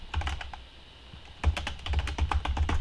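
Computer keyboard typing while entering a title in video editing software, a quick run of light clicky keystrokes, a short pause, then a denser burst of taps, close and clear with no talking.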